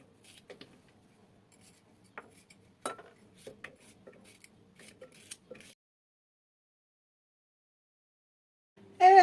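A knife chops green beans into small pieces on a cutting board, a run of light irregular taps and cuts close by for several seconds, then a stretch of quiet before a brief louder knock at the end.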